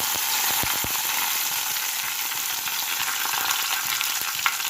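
Mustard seeds crackle and fry in a hot pan, a dense, steady sizzle with scattered sharp pops throughout, close and loud with no voices.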